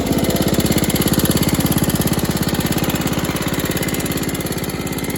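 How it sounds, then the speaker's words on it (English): A 1968 Snapper Comet 30 riding lawn mower, barn find fitted with a new carburetor, fuel lines and filter, running at a steady, loud, rapid thumping idle close by, with no voices. "She's a little bit louder than the other lawnmowers."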